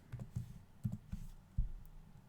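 Sparse, quiet clicks of keys pressed on a computer keyboard, about half a dozen taps at an uneven rhythm, close but soft, with no talking.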